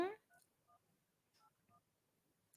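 Touch-tone telephone dialing before a call to a New York number: a run of short, clean DTMF beeps in an uneven rhythm, with brief speech at the start and a burst at the end.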